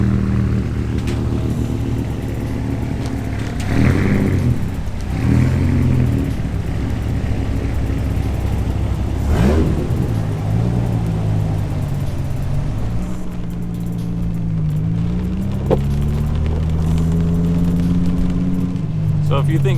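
A Dodge Viper and an 800-horsepower turbo Ram truck named Venom drive through pouring rain, steady engine drone and tyre hiss on wet road, with a gear change or rev rising partway through.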